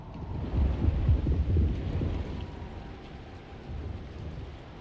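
A thunderstorm approaches in the video game Alone in the Dark (2024): low rolling thunder rumbles near the start over steady rain and wind noise, then eases into a softer continuous patter.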